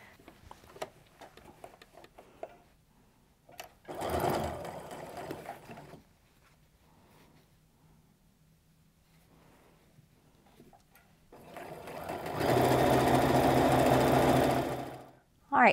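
Stitching an apron seam, a sewing machine whirs in two close bursts, a short run followed later by a longer, louder one, with a person talking in the quieter stretches between.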